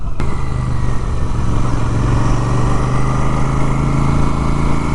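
A Royal Enfield Super Meteor 650 engine pulls uphill in third gear at low speed on a hill road, a loud, steady, close-up drone that holds an even pitch without a break.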